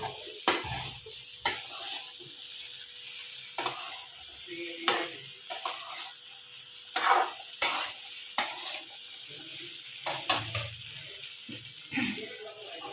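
Sliced okra fries in oil with tomato and turmeric, sizzling softly in a pan. Repeated sharp scrapes and knocks of a stirring spoon cut through the steady hiss.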